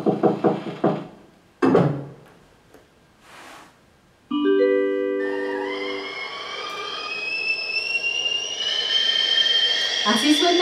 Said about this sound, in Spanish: Así suena una tetera cuando está hirviendo